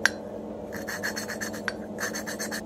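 Hand lapping an exhaust valve with grinding paste in a pit bike engine, a close, steady rhythmic scraping of metal turning against metal with short gritty pulses.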